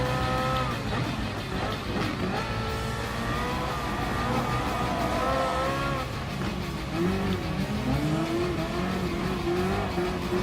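A BMW M3 GT Gr.3 race car in Gran Turismo Sport, its engine droning loud and continuous, pitch rising and falling through gear changes, with tire squeal and skidding mixed in.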